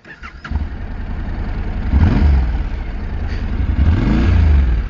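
A Honda NC700X motorcycle engine cranks and catches, then settles into a loud, low throbbing idle with a couple of brief revs, close by.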